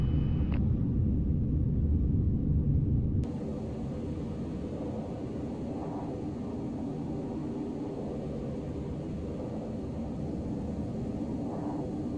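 A Boeing 737-800 in Flight Simulator X taxis to general aviation parking, its jet engines producing a steady low rumble and broad whine, with a brief higher tone early on before the level drops slightly and holds.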